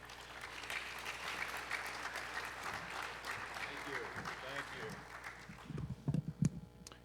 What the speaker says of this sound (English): So please, everybody, give a round of applause for Mr.